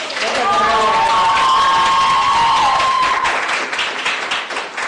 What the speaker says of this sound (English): no need to say a round of applause for our first presenter